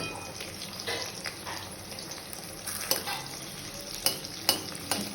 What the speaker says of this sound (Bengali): এই দেখো একে একে আমি ভাজাগুলোকে উল্টে নিচ্ছি